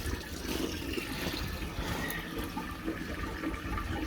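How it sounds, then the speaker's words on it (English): Water pouring into a drain on a WW2 RAF dispersed airfield site, a continuous, dense gush and splash that stays loud and steady with no talk over it. "Water running into that one."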